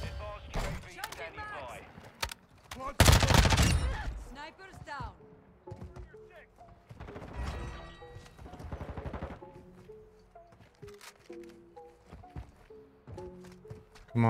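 Lachmann Sub submachine gun firing in a Modern Warfare 2 multiplayer match: one loud burst stands out among scattered clicks, thuds and other game sounds, with no voices.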